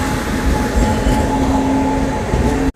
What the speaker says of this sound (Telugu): అదిగోండి మన ట్రైన్ అయితే రానే వచ్చేసింది.